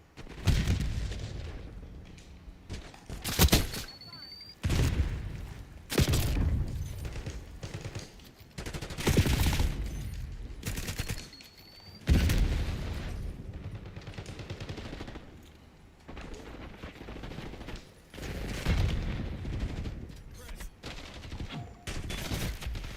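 Rapid gunfire in a Call of Duty Black Ops 6 match, loud bursts of automatic fire and sharp shots in quick clusters separated by short lulls, with no talk over it.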